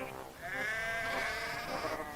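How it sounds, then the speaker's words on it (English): Sheep bleat while being unloaded from wagons, one long wavering bleat swelling after a brief pause and holding for nearly two seconds, close and clear with no voices over it. "Skarloey watched the farmers unload the sheep."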